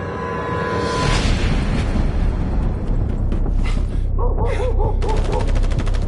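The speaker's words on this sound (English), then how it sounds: "gunfire." Rapid bursts of gunfire and booming impacts fill the scene, with a rattling automatic stream near the end and a voice briefly audible.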